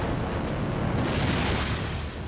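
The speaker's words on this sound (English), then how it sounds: "It finally explodes." A loud, roaring explosion at a refinery rumbles with a broad, sustained blast of noise that lingers heavily before tapering slightly.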